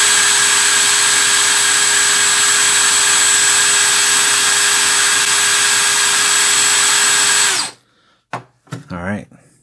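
A brushless drill runs at a constant speed with a steady high whine for several seconds, then stops abruptly. A few short, separate sounds follow.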